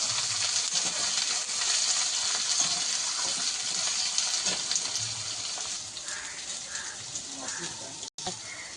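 Cut potato and eggplant pieces fry in a pan for a Bengali fish recipe, making a dense, constant sizzle that eases slightly toward the end, with faint background sounds underneath.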